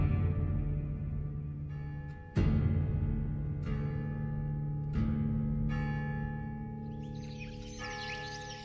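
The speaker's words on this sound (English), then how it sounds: "I had the bell rung to summon the people here to sign the contract." A church bell tolls in the distance, a few spaced strikes with long ringing hum between them, rung to call townspeople together in the Reconstruction-era South.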